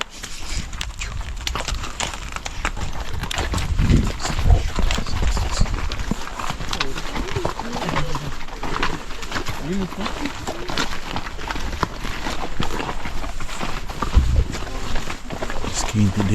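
Horse hooves clip-clopping steadily along a walking path in Kazakhstan, a continuous close rhythmic clatter with people talking over it throughout.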